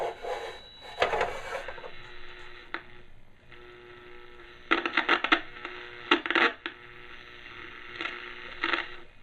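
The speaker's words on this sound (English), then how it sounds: "It is picking up some static noise, but no stations" A vintage novelty AM promotional radio for Champion Spark Plugs, battery-powered, hisses with static and no stations, with scratchy crackles, rasping bursts and handling clicks that come and go.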